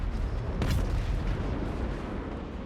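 Crane gunners, Cathay artillery in the video game Total War Warhammer 3, let off one heavy, sharp blast that rises out of a dense, constant roar of battle noise.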